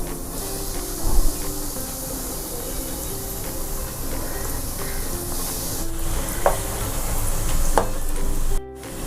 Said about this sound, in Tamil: இப்போ நம்ம செஞ்ச ரோல்ஸ் எல்லாம் ஒன்று ஒன்றா அப்படியே போட்டு ஃப்ரை பண்ணி எடுக்க போகிறோம்.